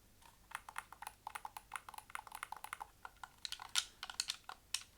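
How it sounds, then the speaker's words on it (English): Xbox Series X controller bumper buttons clicking in a fast, uneven run of sharp plastic clicks, close and crisp, with no talking. "That's very clicky. Those are the bumper buttons."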